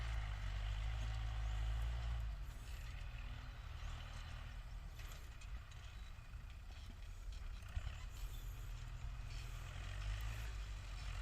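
A Kubota MU4902 tractor works a rain-soaked field preparing soil, its engine a steady low rumble with a louder throaty start that eases after two seconds, continuous and fairly distant, with no voices.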